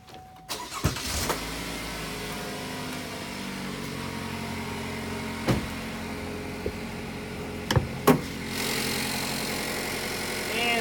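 A 2017 Chevrolet Impala LT's 2.5-liter four-cylinder dual overhead cam engine idling, a steady low hum under the open hood punctuated by a few sharp clicks and clunks, with a brief hiss near the end.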